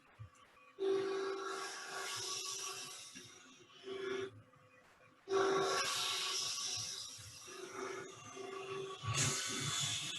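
Spindle gouge cutting beads into wood spinning on a lathe: several loud bursts of whirring, scraping cut noise with a steady tonal hum, separated by short quieter pauses, close by and with no talk.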